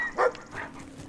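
A dog in the video game Brothers: A Tale of Two Sons lets out a single short bark, followed by a fainter yelp over low game ambience.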